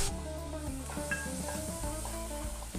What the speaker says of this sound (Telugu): తర్వాత కరివేపాకు వేసుకొని వేయించుకోవాలి.